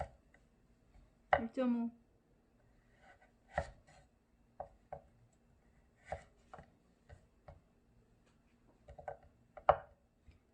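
A knife chops carrot on a cutting board in a few sharp, separate, unevenly spaced strikes, quiet and close, with a person speaking briefly between the cuts.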